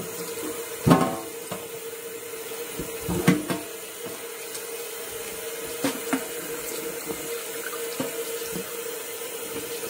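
Tap water runs steadily into a kitchen sink to rinse oranges before blending, a continuous hiss of flowing water with a few louder splashes and clunks near the start, close and alone without talk.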